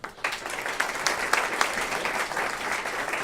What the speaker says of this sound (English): Put your hands together for Kevin O'Brien.